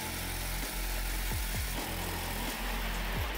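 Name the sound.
jigsaw cutting metal van body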